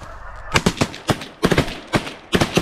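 Geese honking during a hunt, a series of loud nasal honks in irregular bursts close by, following a quieter opening.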